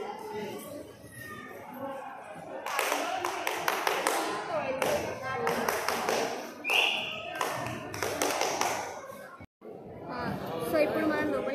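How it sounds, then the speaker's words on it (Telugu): Sharp hand claps ring out at the entrance of Golconda Fort, a stone gateway, cutting through a group of people chatting nearby; the claps come in scattered bursts under the close conversation. "కింద క్లాప్ కొడితే పైన వినిపిస్తుంది"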